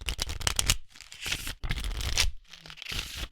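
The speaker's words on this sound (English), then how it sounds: "I have to open up my deck of cards here and give them a good shuffle" A deck of playing cards gets shuffled up close, with rapid riffling bursts in three quick rounds separated by brief pauses, crisp and papery with a soft thump as the cards settle.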